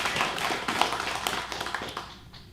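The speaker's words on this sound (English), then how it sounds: "Yes, we should clap." Church congregation clapping, a scattered, moderately faint patter of hands with uneven individual claps that thins out and fades toward the end.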